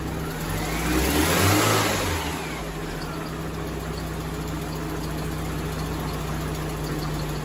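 A Eagle Talon engine running after a spark plug replacement gives a steady mid-pitched hum, swelling briefly in a short rev near the start before settling into an even idle with a constant tonal drone underneath.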